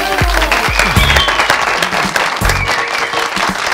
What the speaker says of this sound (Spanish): Un aplauso para el profesor Juan Domingo Tolizano.